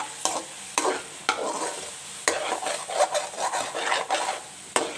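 Peas, onion and tomato cook in a pan with soft sizzling, broken by several sharp stirring scrapes against the metal over five seconds, close and fairly quiet, with no voices.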